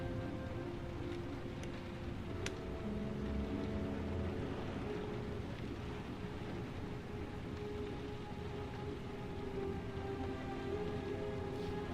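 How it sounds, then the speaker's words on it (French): Rain in the video game Heavy Rain falls as a steady soft hiss with faint patters, quiet and constant with no voices, under a low background hum and a few scattered clicks. "La pluie."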